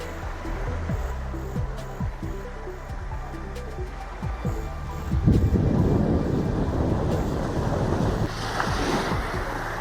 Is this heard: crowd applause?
no